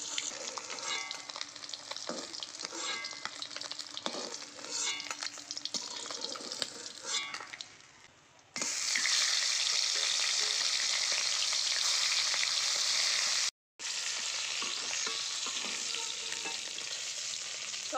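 Pieces of rui fish fry in hot oil, giving a steady loud crackling sizzle throughout that briefly dips and cuts out for a moment, with no talk.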